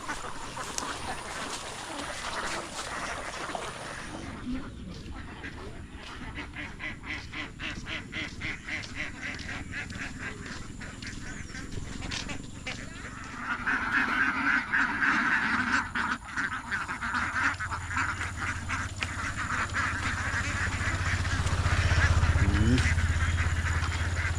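Ducks quack repeatedly outdoors, some calls near and loud and others farther off, over a rough background of wind and ambient noise, with faint voices now and then.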